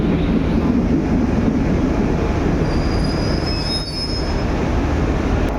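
Mandovi Express passenger train rolling along the rails with a loud, continuous metallic wheel squeal over steady heavy rumble, close by and with no voices.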